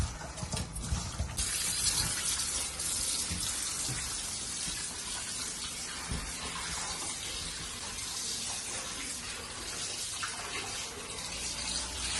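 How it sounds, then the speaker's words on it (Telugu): Running tap water gushes over fish being washed in a basket, a continuous splashing rush that holds steady and fairly close for several seconds, with no talking. "ఫిష్ కడిగేటప్పుడు ఇలాంటి బుట్టలో వేసుకోవాలమ్మా అది ఇక్కడ వాటర్ అంతా పోతుంది"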